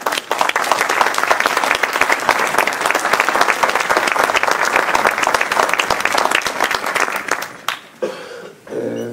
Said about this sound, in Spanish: quiero pedir un aplauso para él también